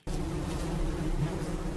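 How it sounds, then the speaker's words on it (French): A newly arriving bee colony swarms at a hive in a mangrove apiary, producing a dense, continuous, close buzzing drone that stays steady and loud. "nous avons assisté à l'arrivée de nouvelles colonies d'abeilles"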